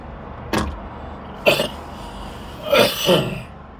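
A person vaping coughs and clears their throat in a few separate rough bursts, one sharp hack, then another, then a double cough near the end, close by against a light background hum.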